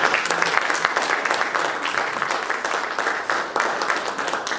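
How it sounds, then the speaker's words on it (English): Warm audience applause for panelists at a Pan African Festival food panel, a dense, continuous roomful of clapping, fairly loud and even throughout, with no talk over it. "please join me in giving a warm round of applause for our esteemed panelists"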